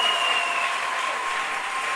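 A church congregation applauding, dense steady clapping that fills the space, loud and continuous with no pause.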